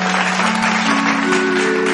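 Dense audience clapping welcoming a singer onto a stage at a devotional music program, sustained and loud throughout, with a faint tonal hum underneath.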